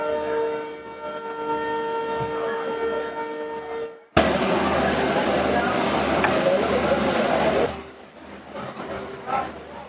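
A passenger train pulling out on the Dimapur to Jorhat line, heard from inside: a steady tonal hum gives way abruptly to a loud broadband rumble and rattle that later eases off.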